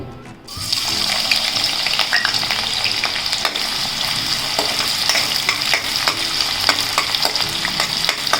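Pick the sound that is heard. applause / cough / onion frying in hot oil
onion frying in hot oil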